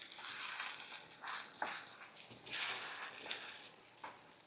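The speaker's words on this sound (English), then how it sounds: "So we'll add in a lot of basil. And we'll just mix this all up." Quiet scraping and rustling of chicken, cooked potatoes and basil being mixed in a single pan, in soft repeated bursts with faint sizzling underneath.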